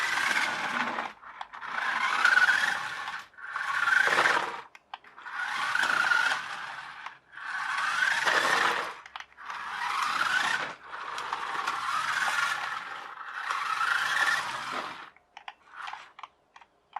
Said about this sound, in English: that 3D printed gear is slipping